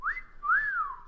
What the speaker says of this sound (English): Starlight turned back to face the newcomer, who whistled coyly